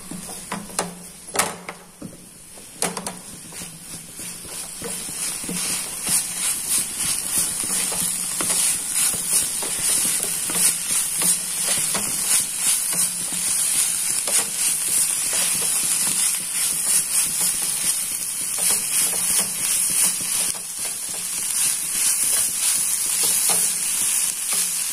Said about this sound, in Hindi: अब इसको मीडियम पे करके एक मिनट तक भून लेंगे